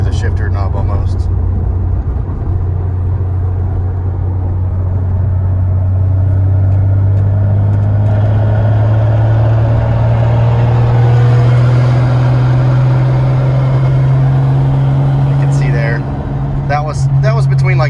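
Droning, low hum of a 2JZ-engined car lugging at low RPM with a Tilton ST246 twin sprung-disc clutch, a steady loud rumble from inside the cabin that slowly rises in pitch, with brief faint rattles near the end.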